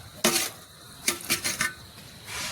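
Chicken being stirred in a metal pot for Malabar dum biryani, a few sharp clanks and scrapes of a spoon against the pot in short bursts, close and fairly loud, with no talking.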